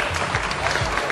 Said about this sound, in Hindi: पंकज शर्मा प्रोड्यूसर, जोरदार तालियों के साथ।